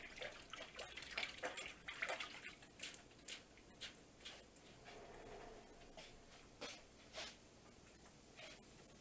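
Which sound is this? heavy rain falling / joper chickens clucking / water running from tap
water running from tap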